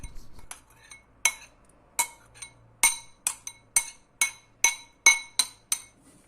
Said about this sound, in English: Now you can add the ginger, onion, garlic mixture to the mix.